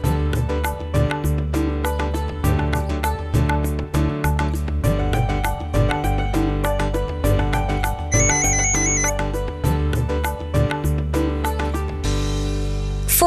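A melodic electronic phone ringtone plays steadily and loud, a looping tune with repeated notes, with no voices over it.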